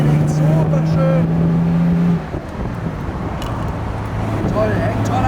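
A 1956 Jaguar XK 140 sports car accelerates with a steady, rising engine drone heard from close by, while someone speaks over it; the tone eases partway through and then carries on under his voice.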